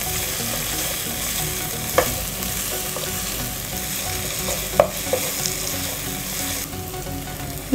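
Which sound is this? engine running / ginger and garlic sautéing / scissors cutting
ginger and garlic sautéing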